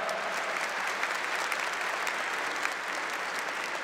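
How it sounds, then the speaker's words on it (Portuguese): A church congregation claps in sustained, dense applause, a steady wash of many hands filling the space with no break throughout. "Uma salva de palmas a ela."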